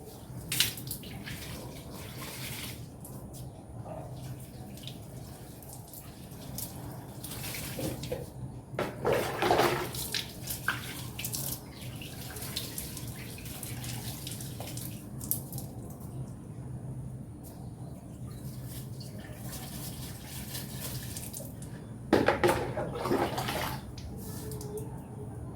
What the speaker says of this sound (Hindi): यहाँ पे आके मैंने सारे पौधों को पानी दिया था